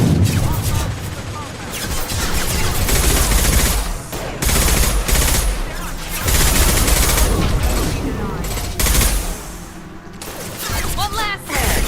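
Krogan enemies in Mass Effect 2 unleash dense, rapid bursts of gunfire and booming impacts, loud and close, with voices talking over the battle.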